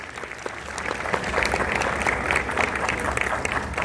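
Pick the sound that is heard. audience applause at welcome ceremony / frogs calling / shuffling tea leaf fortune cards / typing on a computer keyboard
audience applause at welcome ceremony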